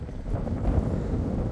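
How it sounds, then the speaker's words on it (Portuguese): Steady autumn wind blowing outdoors under a clear sky, a continuous low rumbling buffet with gusts against the microphone and no voices. "o ventinho aqui é bem gostoso"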